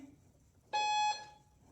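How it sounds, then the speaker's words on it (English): A single short electronic beep, clear and steady, rising abruptly out of quiet background and cutting off after under half a second. "Ignore the beep that's about to come."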